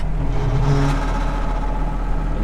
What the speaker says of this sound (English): I'm gonna fire the tractor up